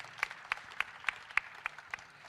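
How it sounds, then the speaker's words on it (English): A small audience at a budget dialogue event claps sparsely, with about eight distinct, evenly spaced hand claps at a moderate distance over a quiet room. "Give him a massive round of applause, please."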